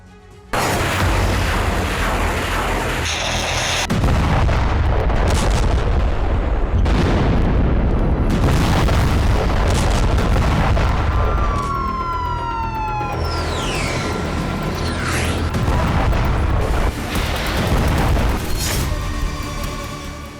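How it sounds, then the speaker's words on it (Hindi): Explosions and booming blasts from Hezbollah attacks fill the stretch loudly and continuously, with siren-like rising and falling tones and whistling streaks over the heavy rumble. "जब नसरल्लाह का फरमान जारी होगा तो हिजबुल्लाह लड़ाके इस तरह विध्वंसक हमले करते हैं"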